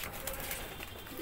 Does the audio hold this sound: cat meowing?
no